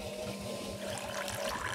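Water runs and pours steadily into a toilet during a stage comedy show, a continuous close splashing trickle with no break across the short stretch.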